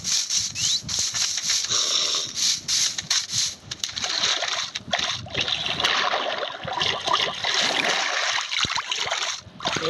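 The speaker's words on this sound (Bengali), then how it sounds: "এরকম করে সাঁতার কাটতে পারি" Video game character swimming through water, with continuous sloshing and splashing strokes, near and fairly loud, running throughout with brief dips between movements.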